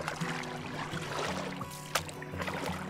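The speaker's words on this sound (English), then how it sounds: "demonstrate how you can make your canoe go straight while paddling on the same side" Water sounds from a canoe being paddled on one side, with soft trickling and swishing of the blade through the water and a brief splash near the middle, steady and fairly quiet, with no talking.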